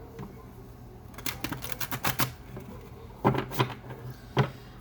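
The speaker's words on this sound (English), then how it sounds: "Alright, one more shuffle, if I can shuffle them the right way." Quiet papery flicks and soft clacks of tarot cards being shuffled close by, in two bursts of quick riffling with a gap between.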